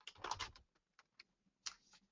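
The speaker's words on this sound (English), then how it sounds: "I'll start typing." Keystrokes on a computer keyboard while entering an Excel formula, a quick burst of clustered clicks followed by a few sparse single taps and another short flurry, close and clear with no talking.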